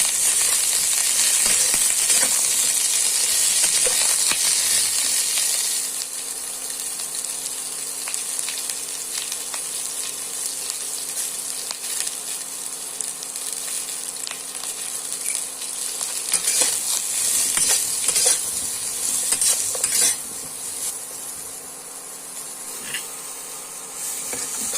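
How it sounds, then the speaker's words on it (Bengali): Cauliflower florets fry with salt and turmeric in oil in a karai, giving a steady bubbling sizzle with occasional clinks and stirring scrapes and no talk. "এবার আমি ফুলকপিগুলোকে নুন হলুদ দিয়ে ভেজে তুলে নেব"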